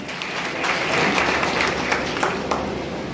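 An audience claps loudly at a school drama on HIV awareness at Digsui Sadhana Banga Vidyalaya, dense continuous applause filling the whole stretch with sharp individual claps standing out.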